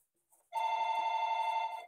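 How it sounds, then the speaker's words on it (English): A telephone bell rings in one continuous, loud electronic trill lasting just over a second, heard alone after a brief faint noise, during a maths lesson on the factor theorem. "don't worry about this telephone ringing"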